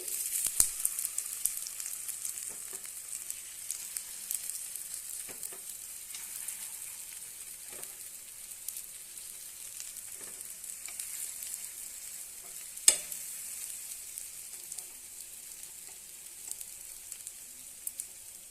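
Banana paniyaram cook in a paniyaram pan after being flipped, giving a soft, steady high sizzle that holds evenly throughout, with occasional light clicks and one sharper tap, and no voices.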